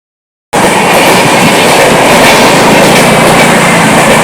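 A train rolls past Amguri train station, a loud, steady rumble of wheels and rail clatter that starts abruptly and holds at full strength throughout.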